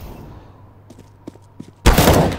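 AK-47 fire in a tactical shooter match: a few sharp scattered shots and clicks, then a loud sudden burst of rapid automatic gunfire that fills the end of the moment.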